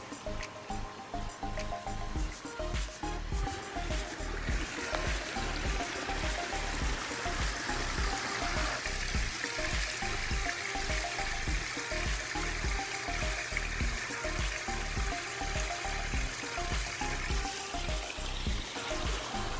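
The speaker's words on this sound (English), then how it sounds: "enjoy the sound of running water" Steady running water from a medium-sized pondless waterfall, a continuous splashing rush with trickling detail that stays constant and fairly close throughout, alone without voices.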